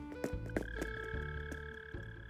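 Mole cricket in Animal Crossing: New Horizons giving a steady, buzzing, croak-like trill with tonal game chimes, fairly loud and close, with no talking.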